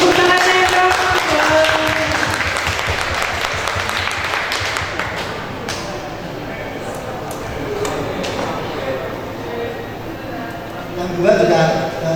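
Audience applauding at a talk about a photo book made by children with disabilities, a dense wash of many hands clapping that holds steady and fades slightly toward the end, with voices mixed through it.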